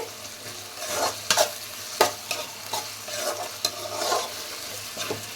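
Ginger garlic paste fries in a pan with tomatoes as a spoon stirs it, giving a steady sizzle broken by sharp scraping strokes at irregular intervals, close by, with no talking.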